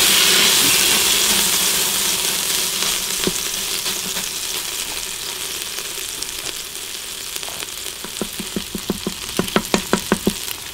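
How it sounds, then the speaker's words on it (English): Chorizo fries in a SimPot on saute mode with a continuous sizzling hiss that slowly softens, while sharp pops and crackles grow more frequent toward the end. "we'll get this Simpot into saute mode, and we're going to start with the chorizo"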